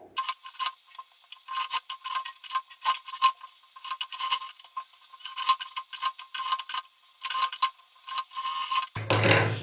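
Close, rapid bursts of a sewing machine stitching blouse fabric, running in short stop-start runs with a steady mechanical clatter and brief pauses between them.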